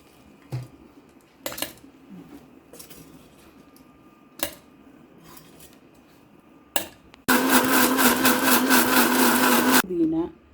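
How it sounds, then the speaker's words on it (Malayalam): An electric mixer grinder whirs loudly for about two and a half seconds, grinding black pepper and spices in a home kitchen, preceded by a few scattered clinks and knocks with faint talk. "അപ്പം അത് മിക്സിയിലേക്ക് ആക്കിയിട്ട് അരയ്ക്കാം."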